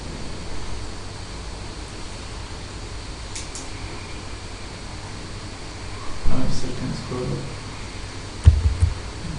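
Steady broadband wind noise rushes throughout, with a couple of louder gusts buffeting near the end.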